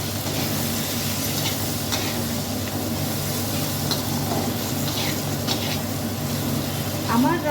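Chili powder stirred in a hot pan for egg rice, a steady close sizzle and frying hiss with scraping stir strokes throughout, faint voice in the background.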